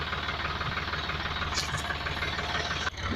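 A tractor's engine drones steadily in a continuous mid-low rumble as it pulls, with no voices over it and a brief dip near the end.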